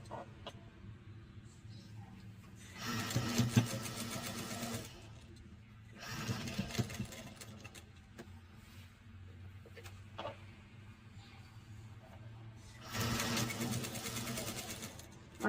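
A sewing machine stitches piping onto a blouse in three separate bursts of fast, steady whirring, with quiet pauses between runs and faint background noise.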